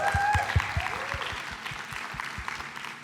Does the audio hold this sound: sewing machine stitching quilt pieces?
no